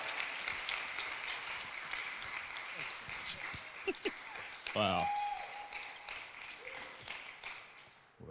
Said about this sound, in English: can we give Cameron another round of applause as he comes and shares the word with us?